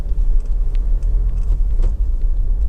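Honda CR-V 2.2 i-DTEC EX 4x4 diesel driving on a road, a steady low engine and road rumble heard from inside the car, with a few faint clicks and knocks over it.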